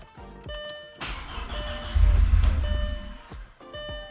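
A car engine cranks with a rising starter whine, catches into a rough, uneven run for about a second, then dies back down while tonal beeping or chiming continues in the background.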